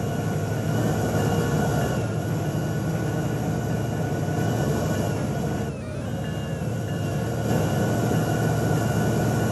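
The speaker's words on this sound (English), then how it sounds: "It's an early Uni Pacific train." An early Union Pacific train runs through a desert with palm trees in the video game Rails Unlimited, giving a loud, steady rumble with wheel and rail noise throughout, briefly dipping partway through.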